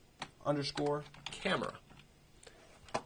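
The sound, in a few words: typing on a computer keyboard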